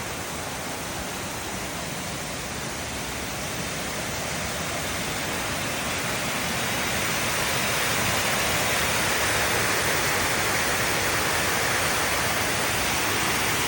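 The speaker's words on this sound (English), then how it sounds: "As we're getting close to the falls, I can hear the noise." Loud, steady roar of Hogarth Falls near Strahan, Tasmania, a dense broadband rush of falling water that swells slightly louder as it goes on, with no voices.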